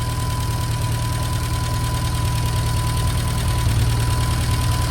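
A 1952 Fordson E83W van engine fitted with electronic ignition idles steadily up close, a continuous rhythmic low chugging with a faint mechanical tick and no talking.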